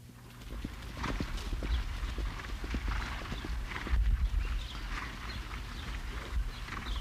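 Horse hooves clip-clop steadily on a hard surface in Poland, where horses are bred and trained, a brisk rhythmic patter of many close strikes against a low background rumble, with no talking.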